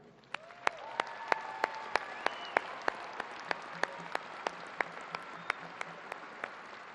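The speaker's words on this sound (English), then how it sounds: "Please join me in a round of applause for Dr. Jeffrey Meyer and the El Paso Community College Orchestra." A commencement crowd applauds the El Paso Community College Orchestra with a sustained wash of clapping, crisp individual claps standing out at a steady pace near the microphone, and faint tonal sounds lingering underneath.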